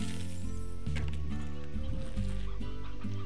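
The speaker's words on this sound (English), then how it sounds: "How are our chickens doing?" Chickens in the Slime Rancher video game cluck and chatter in short, overlapping bursts, several birds close together in a steady, busy run of calls with no talk.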